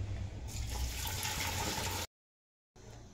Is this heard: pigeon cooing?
no